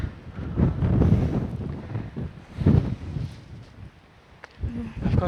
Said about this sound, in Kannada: ಗಾಳಿ ಒಂಚೂರು ಕಡಿಮೆ ಇದ್ದಿದ್ರೆ ಇನ್ನೂ ಚೆನ್ನಾಗಿದ್ದಿರೋದು